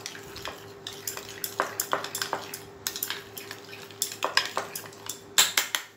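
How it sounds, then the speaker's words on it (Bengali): Curd rice is mixed with salt and sugar in a bowl, with a spoon scraping and clinking against the sides in quick, close, rhythmic strokes over a faint steady hum. "চিনি আর নুনটা দেওয়ার পর আবার আমি এটাকে খুব ভালোভাবে মিক্সড করে নিচ্ছি।"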